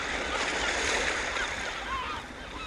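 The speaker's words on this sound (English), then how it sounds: "he likes the sound the sea makes as it washes over them" Sea waves wash over the pebbles of an empty beach in a loud, close, continuous broadband rush that eases slightly near the end.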